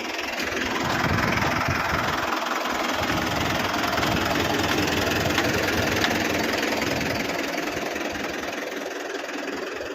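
A Saurashtra tractor engine runs steadily while pulling a 7.5-foot seed drill sowing onion seed in a field, a loud continuous low rumble with constant vibration and no pauses, with no voices.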